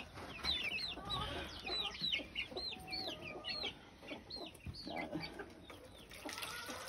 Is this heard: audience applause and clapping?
no